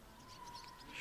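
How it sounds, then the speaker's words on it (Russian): Swallows and other birds at a lakeside beach of a Belarusian sanatorium give faint, scattered high chirps and twitters over a steady, low outdoor background hum. "Щебет птиц."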